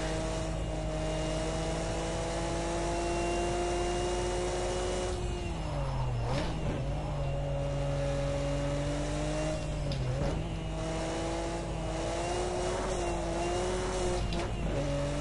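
Nissan Skyline R34 GT-R SMS-R racing car lapping the Nürburgring Nordschleife, engine droning loud and steady from inside, pitch dipping briefly at gear changes and climbing again.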